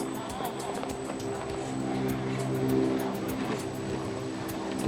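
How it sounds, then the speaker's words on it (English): Cross RC EMO AT4 RC car in first gear with diffs locked, its Hobbywing 1060 motor giving a faint steady tonal whine with a few harmonic layers, swelling slightly midway, set against light background noise. "You can hear the motor whine as a result of the pulse width modulation from the Hobbywing 1060."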